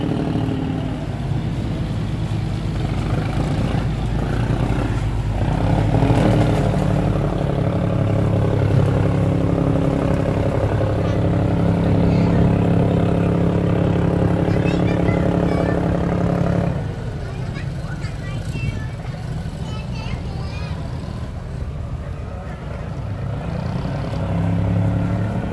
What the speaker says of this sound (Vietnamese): Xà lan mà động cơ mạnh cỡ nào mà còn qua không nổi nha mọi người.